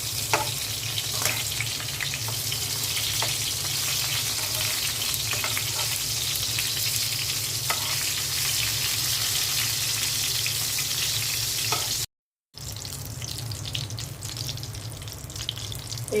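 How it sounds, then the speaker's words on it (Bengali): Freshly turned eggplant slices sizzle in hot oil, a loud, continuous close-up crackle that carries on evenly apart from one short break near the end. "বেগুনগুলো উল্টে দিচ্ছি"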